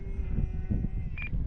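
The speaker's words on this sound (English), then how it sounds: "so that's what you're hearing is the beeps when I come off the throttle" A radio-control transmitter for a HobbyZone AeroScout S 2 model plane beeps when the throttle is cut at a park, one short high beep standing out clearly over wind and outdoor rumble.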